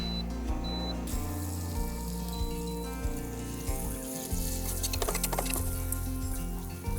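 Butter melts in a hot pan as the base for a roux, giving a steady close sizzle and soft crackle that runs throughout with no talk.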